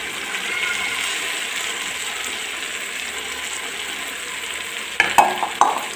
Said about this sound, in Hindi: अब इसमें ऐड करती हूँ मैं भिंडियाँ